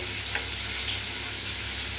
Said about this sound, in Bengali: মাছ ভাজার তেলের উপরে আলুটা তুলে দিলাম